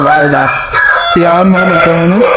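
A Peruvidai rooster, a heavy fighting breed about one year old, crows loudly and close by in a long drawn-out call with a rough, vibrating tone.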